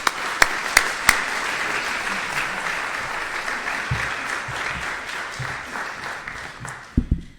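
At a scholarship luncheon, an audience applauds to welcome a university president, steady sustained clapping from many hands in a room, opening with a few sharp individual claps and tapering off near the end.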